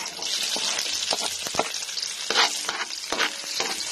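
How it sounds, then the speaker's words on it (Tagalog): Garlic and onion sizzle and fry in a pan while being stirred, with steady crackling broken by sharper scraping stirs, close and fairly loud, no voices over it. "So mga idol, magigisa na tayo. Maglalagay na tayo ng bawang. Sunod na tayo sibuyas."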